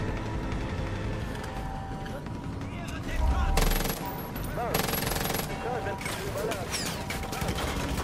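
Gunfire in the video game Far Cry 5 rattles in rapid machine-gun bursts and louder volleys over dense game noise, with a voice talking throughout.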